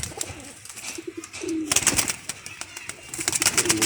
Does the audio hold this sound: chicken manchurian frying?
no